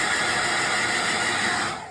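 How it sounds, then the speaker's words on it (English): A hairdryer blows steadily on a non-surgical hair replacement system, drying it through the lace; a continuous close, loud hiss and whine that drops off at the end. "We would dry it off with a hairdryer this way."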